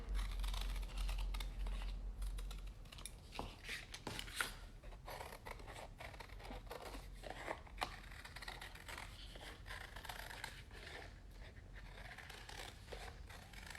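Scissors cutting out pieces of chipboard from cracker boxes for making pom poms, a quiet run of close crisp snips and small paper rustles, repeated irregularly throughout.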